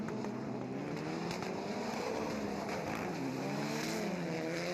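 Rallycross cars race past at Montalegre in a Titans RX event, their engines rising in a loud, dense roar as they flash through close by, with a brief swell of overlapping engine notes.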